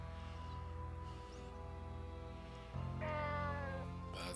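A cat meows in the video game Nights of Azure over steady background music, a faint call early on and a clearer, louder meow near the end.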